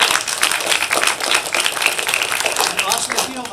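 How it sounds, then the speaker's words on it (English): Audience at a City of Henderson live meeting applauding a city commissioner, a dense steady burst of hand clapping close by, lasting a few seconds. "Everybody give him a round of applause."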